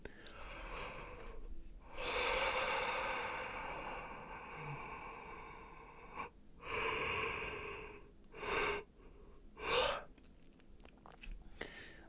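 A voice imitates a yawn in devoiced breath form: long breathy airy exhalations, each swelling and fading, repeated several times with short pauses and quieter breaths between.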